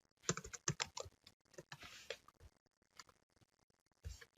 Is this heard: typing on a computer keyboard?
yes